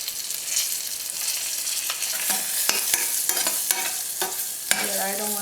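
Cumin and fenugreek seeds frying over low heat in a small pan while being stirred: a steady close sizzle broken by repeated scraping and clicking strokes, with no talking.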